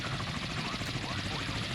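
A helicopter's rotor thrum churns steadily as a low continuous drone in the naval combat video game Sea Power, moderately quiet, with speech over it.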